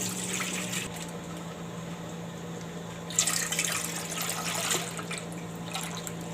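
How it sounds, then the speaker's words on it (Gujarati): Milk from three packets pouring into a pot for homemade paneer, a steady liquid stream with a low hum and a brief louder splash partway through. "તો પહેલાં આપણે દૂધને આમાં 3 થેલી આમાં આપણે ઠલવી લેવું"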